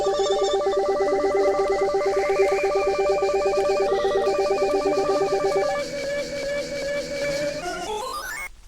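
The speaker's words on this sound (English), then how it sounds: "We end up with this giant cacophony of voice chat join sounds as well" A pile-up of overlapping voice chat join chimes in a horror video game, bright repeated tones stacking into a dense ringing jumble that thins out and ends with a rising sweep.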